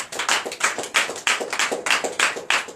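Rhythmic clapping in acclamation at a night deliverance church service in Benin, a few hands striking in a quick, regular pulse of sharp claps, close and moderately loud with no talk.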